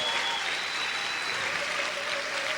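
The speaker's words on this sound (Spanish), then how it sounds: "Si yo fuera usted, aplaudiera fuerte al Señor en esta hora." Church congregation applauding God during a Spanish-language sermon on salvation, a dense, steady wash of many hands clapping at once that carries evenly through the brief stretch with no voice on top.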